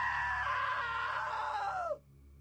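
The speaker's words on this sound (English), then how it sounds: "Now that was a great scream." A long, loud scream in the video game What Remains of Edith Finch holds steady for about two seconds, then slides down in pitch and cuts off abruptly, leaving a faint background hum.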